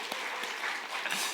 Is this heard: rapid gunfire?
no